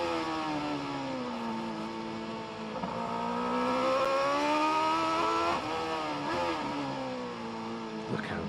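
Racing motorcycle engine during free practice at the Macau Grand Prix, a continuous high-pitched whine that rises and dips as the rider rolls off and back on the throttle through a tight bend, heard under commentary.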